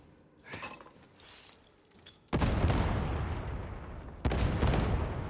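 Grenades exploding among enemies in the video game Darktide: a softer burst, then two heavy booming blasts with long rumbling tails and scattered debris clatter, loud and close, with no talk.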